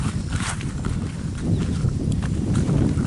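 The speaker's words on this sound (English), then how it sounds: "I'm going to let the cows in the food forest" Cows walk into an overgrown summer food forest, with steady, muffled hoof steps and rustling vegetation nearby, heard outdoors with no talk.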